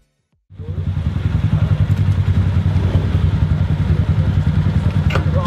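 A small moped engine sputters to life and runs steadily with a loud, chugging putter close by, holding an even rhythm throughout, on Nusa Penida, Bali.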